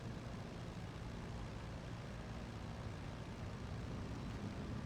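Fighter planes fly over a Steel Division WWII battle, with a Yak-9 and a Brewster among them, making a steady, dense engine drone that holds at an even loudness for the whole stretch with no voices.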